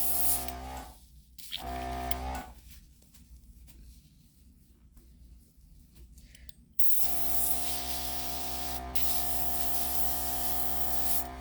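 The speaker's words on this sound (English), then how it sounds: "Okay, spraying clear." An airbrush spraying clear acrylic paint hisses in a steady spray, pauses briefly, sprays again in short bursts, then resumes a long continuous spray, close by.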